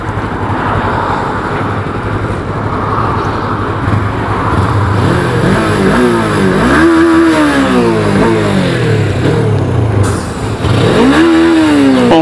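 A Suzuki V-Strom 250 motorcycle ridden through city streets, its engine droning steadily and rising in pitch as it accelerates through the gears, loud and close throughout.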